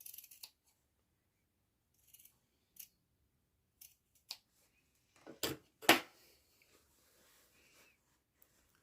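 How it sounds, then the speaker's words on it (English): Scissors snip through sewn fabric along stitched lines on the inside of a fabric box, a few quiet, sparse cuts that end in two louder, sharper snips near the end. "is cut along these lines on the inside of your box that you've just sewn"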